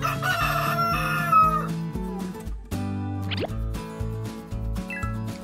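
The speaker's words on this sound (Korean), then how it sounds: "엄마 닭과 아빠 닭이에요." A rooster and hen, with crowing and clucking calls heard briefly over prominent background music, a short rising crow standing out midway.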